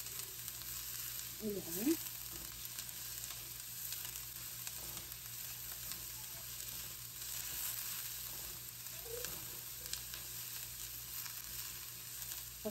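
Garlic browning to golden in a frying pan gives off a steady, close sizzle throughout, with a brief word spoken over the frying.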